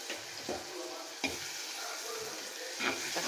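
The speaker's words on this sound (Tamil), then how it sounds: "தக்காளி நல்லா வதங்கட்டும்." Tomatoes sautéing in oil in a clay pot for a fish curry, a soft continuous sizzle with a few light stirring scrapes, heard up close and alone.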